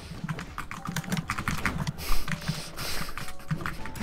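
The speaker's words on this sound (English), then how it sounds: "I just hear you hammering away at your keyboard." Fast, uneven clattering of keys on a computer keyboard, with dense bursts of close, crisp keystrokes and no talking.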